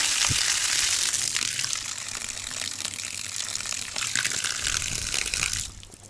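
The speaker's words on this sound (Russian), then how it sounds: "Вода идет." Strong stream of borehole water gushing from a tap in a rural yard, a loud continuous broadband rush that holds steady for about five and a half seconds, then drops abruptly near the end.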